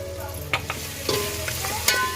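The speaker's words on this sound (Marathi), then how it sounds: "मस्तपैकी चांगलं परतून घ्यायचं आहे ग्रेव्ही आपली तयार झालेली आहे" Masala gravy for prawn biryani is sautéed in a pan, the spoon scraping and stirring through a steady low sizzle, with a few sharp clinks and scrapes in quick succession.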